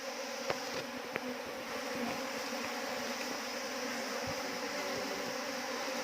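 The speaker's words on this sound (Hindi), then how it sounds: "लगता है ये थोड़ा दूर से आया हुआ मधुमक्खी है।" A new swarm of Apis cerana indica honey bees buzzes in a steady, dense drone that fills the whole stretch, with a couple of brief soft knocks near the start and no talking.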